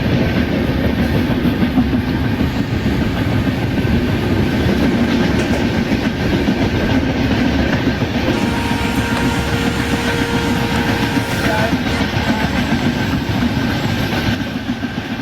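A simulated locomotive hauling the New Delhi–Bhubaneswar Duronto express, a WDP4 diesel, runs steadily along the track with a continuous loud rumble and rhythmic clickety-clack of wheels, a faint squeal near the end.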